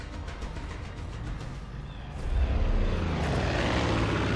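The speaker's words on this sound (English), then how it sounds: "Oh shit, helicopter." Aircraft engine drone in Far Cry 5, a steady low rumble that swells louder about halfway through as the helicopter comes overhead, with no talking.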